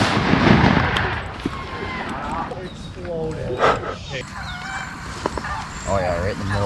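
Shotgun blasts ring out at ducks over a pond during a hunt, a few sharp bangs amid squawking waterfowl, a barking dog and people talking nearby.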